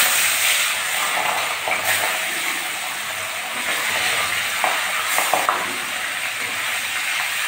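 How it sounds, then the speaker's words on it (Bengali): Tilapia fish fry in hot white oil in a wok, a loud continuous hiss and crackle that holds steady throughout, with a few brief spits and pops. "মাছগুলো আমি সুন্দর করে ভেজে নিচ্ছি লাল লাল করে।"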